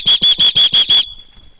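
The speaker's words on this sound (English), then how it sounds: "The whistle would sound something like this." Six sharp, loud safety whistle blasts at a shooting range in a quick even rhythm, each short and shrill, then quiet with faint background noise.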